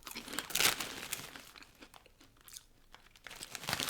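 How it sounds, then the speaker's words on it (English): Crisp, close crunching and chewing of light, melty prawn cocktail flavour English crisps, in several bursts of crinkly bites with quieter chewing between, no talking. "A much softer crunch, but still crunchy."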